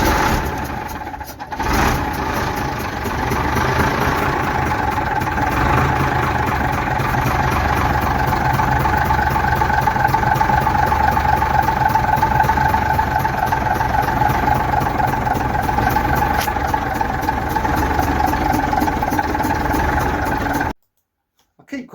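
The engine of an old military vehicle, restored and running, turns over and settles into a steady, loud, continuous idle close by for about twenty seconds before cutting off abruptly.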